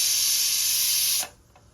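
A pressure cooker lets off a loud, steady jet of hissing steam close by, which cuts off abruptly after a second, leaving a faint quiet tail with a small click.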